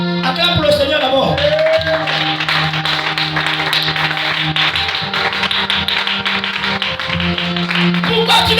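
A church congregation claps in a dense, continuous patter alongside voices and music, with cheering and talk mixed in throughout.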